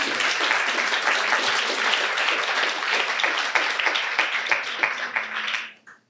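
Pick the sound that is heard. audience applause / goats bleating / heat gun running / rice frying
audience applause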